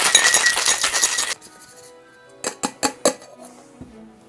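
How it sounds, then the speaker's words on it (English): Ice rattles hard inside a capped cocktail shaker while a keto margarita is shaken, a dense, fast churn for over a second, then a handful of separate sharp clinks. "Cap that off and give it a good shake."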